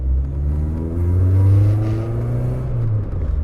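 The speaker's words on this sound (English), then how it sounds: "It's fine though, it's not leaking, but it is really noisy." A Volvo 480 engine revs up and settles back, with a loud, rough, rasping exhaust note from a damaged exhaust throbbing close by.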